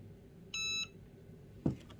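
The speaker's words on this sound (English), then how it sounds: "It will beep when it's done." A single short electronic beep sounds clearly from a Cricut heat press when it finishes, followed by a few soft thuds of handling.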